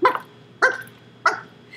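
Three sharp, evenly spaced squirrel barks ring out near and fairly loud, each a short raspy call separated by a pause, with no one speaking.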